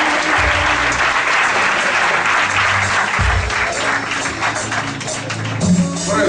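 A congregation applauding during a church service, sustained loud clapping from many hands with a low musical drone and some voices underneath, steady throughout.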